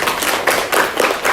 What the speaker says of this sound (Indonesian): kita kasih tepuk tangan dulu untuk kelompoknya Gongtri.